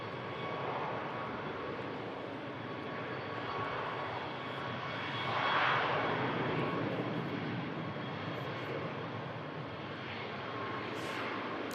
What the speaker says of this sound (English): Ryanair out to Malta.